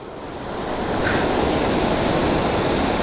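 Steady, loud rush of a waterfall near Sholayar Dam and Athirappilly roaring continuously, a broad hiss of falling water close by, with no voices.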